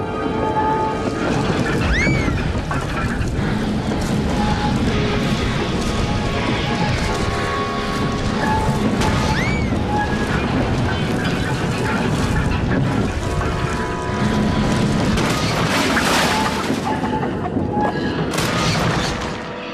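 A cartoon steam engine slides off its tracks into a field with a busy run of crashing, clattering and rumbling effects, several loud bangs scattered through the scene.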